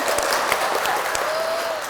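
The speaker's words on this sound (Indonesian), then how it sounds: "tepuk tangan dong" A crowd of women from a religious study group claps together at a gathering, a steady wash of applause with a few sharper claps and a faint voice underneath.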